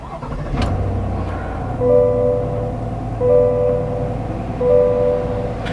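A 2021 GMC Yukon Denali SUV engine starts with a short crank and settles into a low, steady idle hum, while three soft dashboard chimes sound at regular intervals.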